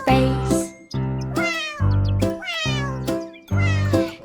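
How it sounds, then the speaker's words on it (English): A small kitten meows loudly and close up, five drawn-out calls in a row with brief gaps between them, each rising and falling in pitch, set against no other sound. "Kitten mewed a tiny call, echo dancing near the wall."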